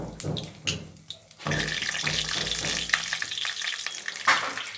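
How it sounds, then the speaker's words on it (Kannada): Chana dal dropped into hot oil for bisi bele bath, a few clatters of it going into the pan and then a rising, close, steady sizzle with occasional crackles. "ನೋಡಿ, ಎಣ್ಣೆ ಕಾದಿದೆ. ಕಡಲೆಬೇಳೆ ಹಾಕ್ತಾ ಇದ್ದೀನಿ."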